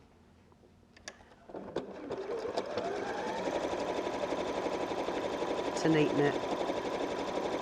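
A sewing machine zigzag stitching a seam on a fabric gift bag, starting up after a few clicks and running in a steady rapid whir, close, with a voice talking briefly at the start.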